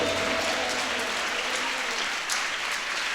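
A congregation at a special prayer meeting claps together in a steady, dense wash of applause that continues at an even level throughout.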